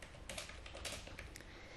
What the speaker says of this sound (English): When I start typing after the word not, I start typing